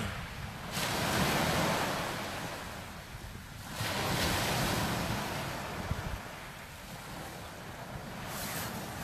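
Ocean waves break on Eastney beach, several loud surging washes swelling and fading in turn with wind buffeting the microphone, no voices over them.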